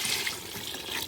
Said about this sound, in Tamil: அடுத்த கட்டமா தண்ணி ஊற்றிடலாம்